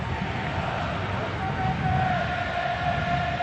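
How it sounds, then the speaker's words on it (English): Home crowd roaring steadily at a Portland Timbers match after a goal, a dense sustained wash of stadium cheering with a long horn-like tone rising through the middle, loud and continuous throughout. "And the home crowd loves it."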